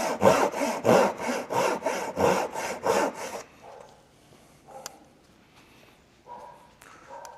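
A hand saw cuts a straight line through wood in about nine even, rhythmic push-pull strokes, close and loud. The sawing then stops, leaving faint knocks and small handling noises.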